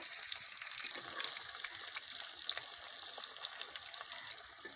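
Potatoes frying in hot oil for chicken biryani, a steady close hiss and sizzle with fine crackling running through without pause.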